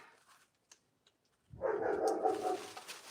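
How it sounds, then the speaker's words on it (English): A dog barks in a bout of several close, loud, rough barks after a quiet start with a few faint clicks, sounding from nearby indoors. "And here goes the dog."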